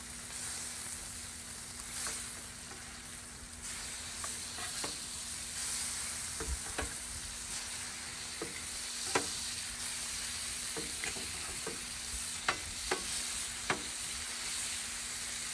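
Bacon sizzling in a breakfast pan, a steady close crackling hiss with scattered sharp pops throughout, no voices.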